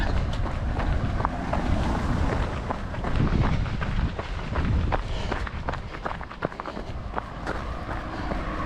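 Steady wind buffets the microphone throughout a trail outing, a loud continuous rumble with gusty swells and scattered clicks and knocks.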